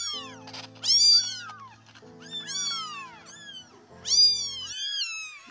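Six rescued kittens meow repeatedly in high, overlapping cries, with a steady low hum running underneath throughout.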